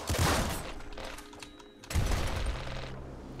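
A sentry gun in Nuclear Throne fires in a rapid mechanical rattle, loud at first, then thins into whirring, clicking machinery before a second burst of fire and grinding noise.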